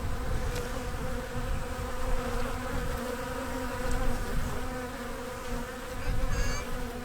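Steady, dense buzzing of many honey bees around their hives close by, a continuous insect drone that swells and fades slightly without pause.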